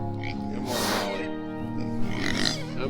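Pigs by a Premier 1 QuickFence enclosure grunt and oink repeatedly at close range, a loud snorting, overlapping chorus with a brief squeal-like burst.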